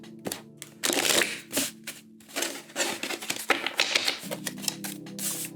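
A deck of tarot cards being shuffled again, close up, with quick clustered card slaps and riffles coming in uneven bursts and a few brief gaps.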